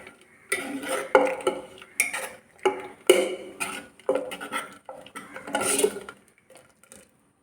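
A spoon stirs a Kerala-style curry of raw mango and jackfruit seeds with ground coconut in a pot, making a series of clattering scrapes and knocks against the metal in uneven bursts with short pauses between.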